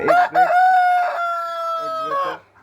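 A rooster of a Tiger chicken breed on a small poultry farm crows once, a loud, close, drawn-out cock-a-doodle-doo lasting about two seconds, with a brief cluck before it.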